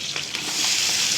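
Chopped onion with mustard seeds, fennel, curry leaves and green chillies sizzles steadily in hot oil in a pan, with brief scraping stirs near the start and a dense, continuous frying hiss throughout.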